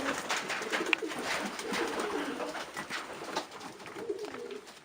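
Stichelbaut racing pigeons coo softly and repeatedly at close range in a loft, with rustling and shuffling underneath and no voices.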